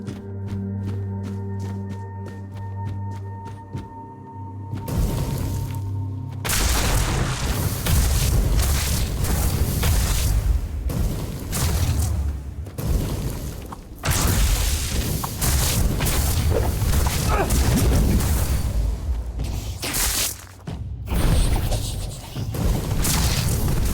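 Heavy booms and crashing blasts fill a Tainted Grail: The Fall of Avalon battle, loud and dense after a quieter tonal opening, with sustained rumbling and repeated impacts and no talking.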